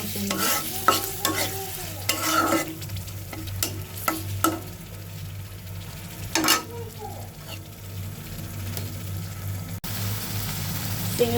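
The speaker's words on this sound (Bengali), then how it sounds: "চিংড়ি মাছগুলো দিয়ে ভালোভাবে চিংড়ি মাছ কষিয়ে নেব।" Shrimp fry in spiced oil while a spatula stirs them, producing repeated scraping and clinking strokes over a steady close sizzle.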